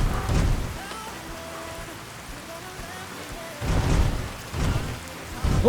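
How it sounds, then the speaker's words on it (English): Steady rain falls throughout in the Fallout: New Vegas game world, a constant wash of drops on surfaces with low rumbling bursts near the end, no talking. "How long has it been fucking raining?"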